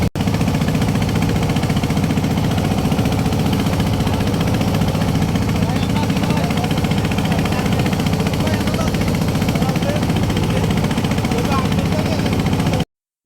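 A trawler's engine runs steadily on a river outing near Chandpur, a continuous mid-pitched drone that stays loud and close throughout, with a faint voice now and then under it.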